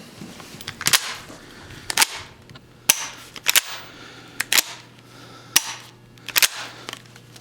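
Sharp metallic clacks of a lever-action rifle being cycled, arriving in quick pairs and singles about every second, close and crisp with no talking.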